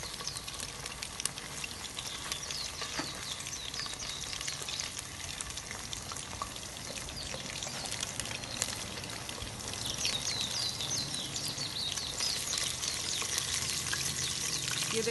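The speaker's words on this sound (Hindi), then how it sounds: "ये देखें अच्छी तरह से ये फ्राई हो रहा है" Chicken pieces frying steadily in hot oil, a dense continuous sizzle and crackle that swells a little louder toward the end, close up with no talking.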